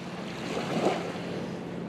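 Gentle surf washes onto the sandy shore of Jordanelle Reservoir on a hot summer day. The soft, steady rush of water comes with light wind noise, faint and brief, and no one speaks.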